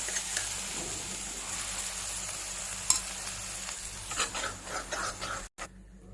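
Cooked moong dal goes into a pan of fried semolina and gram flour for halwa and is stirred, with soft sizzling and scraping, a few sharp clinks, and quieter scrapes near the end.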